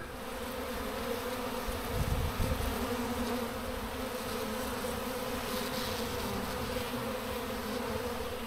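A swarm of bees is caught in an improvised, unlikely swarm trap. Their dense, continuous buzzing hums steadily at close range, with one brief louder swell. No one speaks.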